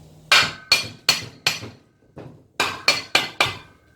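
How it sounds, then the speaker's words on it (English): Sharp metallic hammer blows ring out, four in a steady rhythm, a brief pause with a softer tap, then four more, close and loud, knocking a crankshaft out through a Briggs & Stratton engine casing. "I can just give it a clout with the magic hammer on the other side"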